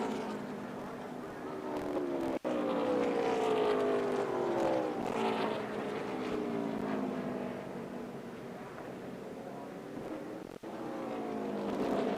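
At the Charlotte 600, a NASCAR race car drones down pit lane, its engine a loud sustained roar that sweeps slowly in pitch, with other cars' engines blending in.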